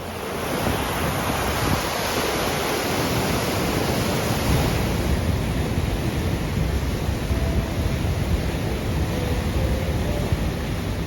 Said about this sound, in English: a big weir that you can't really see from here, but you can hear it